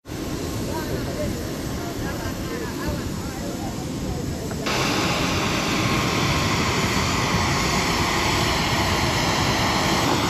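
On the ground at Semera airport just after landing, an airplane fills the air with a loud, steady engine roar and hiss that grows a bit louder partway through, heard from close by.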